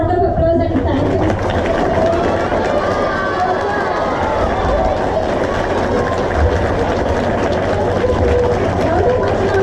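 A crowd of children claps in a round of applause at a school gathering, a dense, rapid, continuous patter of many small hands, loud and sustained with some voices mixed in.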